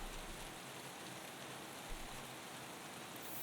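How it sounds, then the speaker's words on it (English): Self-recorded rain runs as a steady, soft background hiss of falling drops in an electronic track, continuous and even throughout with no voices. "On the background I have this rain sound that I recorded myself."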